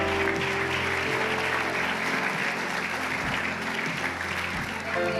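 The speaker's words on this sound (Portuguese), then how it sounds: "você pode aplaudir a Jesus" Sustained applause from a church congregation at a women's conference fills the space, a steady wash of many hands clapping with no break, moderately distant and continuous throughout.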